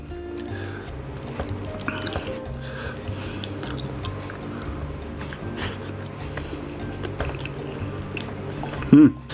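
Someone eats petai beans with rice in a spicy red balado-style sauce, giving soft, close chewing and wet squishing sounds, fairly quiet, with a louder burst near the end.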